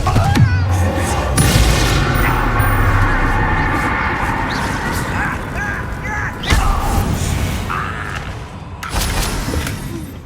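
Confringo spell blasts from Hogwarts Legacy crash out as loud, heavy booms, several bursts rising over a dense, chaotic din of combat.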